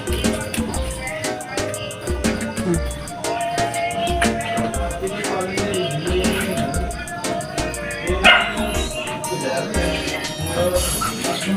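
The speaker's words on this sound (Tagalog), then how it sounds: "yung aso" A dog barks repeatedly close by, loud yips and barks cutting through a busy background with other sounds and occasional voices, at a home where ice is made for sale.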